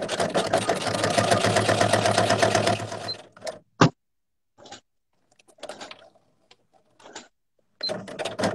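Sewing machine stitching a leather pouch close to the edge, running in a steady dense burst for about three seconds, then several short separate stitch bursts with quiet pauses between.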